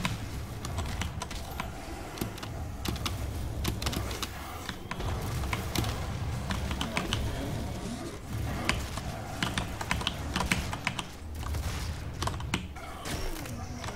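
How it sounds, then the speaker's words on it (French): A computer keyboard clatters with continuous rapid typing and clicking keys, picked up closely by a very sensitive microphone under game sounds of gunfire from Doom. "c'est sûr que mon clavier allait faire du bruit"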